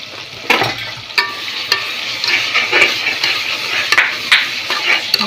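Chicken for a half-kilo chicken biryani fries with biryani masala while a spoon stirs it: a steady sizzle with irregular scraping and clinking strokes against the pan.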